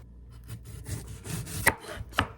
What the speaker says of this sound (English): Now let's start by cutting this onion.